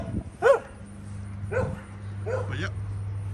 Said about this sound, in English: Puppies are guarding the place.